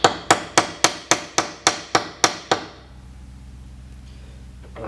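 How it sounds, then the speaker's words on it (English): A hammer peens a knife handle pin on an anvil for a hand-forged coil spring steel knife: about nine sharp, evenly spaced metallic strikes ring close and loud, then give way to quiet room tone. "so you don't end up basically driving the pin through instead of peening it"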